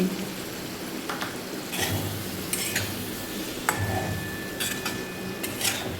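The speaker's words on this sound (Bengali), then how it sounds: "এইভাবে একটু নাড়াচাড়া করে পনিরটাকে একটু ভালো করে ভেজে নেব।" Paneer stirred and fried in ghee with salt and turmeric in a pan, with repeated scraping clinks of a spoon against the metal over a low steady frying hiss, close and moderately loud.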